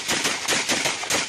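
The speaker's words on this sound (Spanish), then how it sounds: "eso hacen tiros" Rapid bursts of gunfire at a funeral celebration in Colombia, sharp cracks repeating in an uneven rhythm of about five or six shots, loud and close with no talk.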